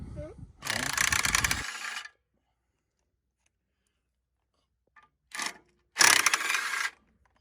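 Electric impact wrench pulling off a clutch and flywheel, two loud rattling bursts of about a second each, a short tap between them, then silence.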